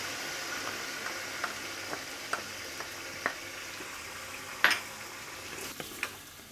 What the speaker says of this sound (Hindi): अब इसमें 1 खाने का चम्मच अदरक और लहसुन का पेस्ट डाल देंगे।